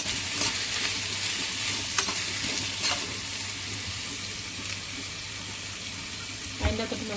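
Ginger, garlic and other ingredients for chicken curry sauté in a pan, giving a steady close sizzle with occasional clinks and stirring scrapes, and a faint low hum underneath.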